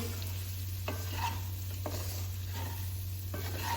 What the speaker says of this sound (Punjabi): ਆਪਾਂ ਇਹਨੂੰ ਆ ਚੰਗੀ ਤਰ੍ਹਾਂ ਨਾਲ ਮਿਕਸ ਕਰ ਦੇਣਾ